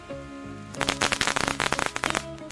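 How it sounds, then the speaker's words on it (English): Firecrackers going off for a Chinese New Year celebration, a rapid burst of loud crackling pops lasting over a second, close by over a low background hum. "Can you hear the sound of the firecracker, Titi?"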